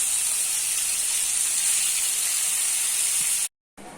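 A pressure cooker holding fish soup gives off a loud, steady high hiss of escaping steam that runs unbroken for several seconds, cuts off abruptly, then resumes briefly.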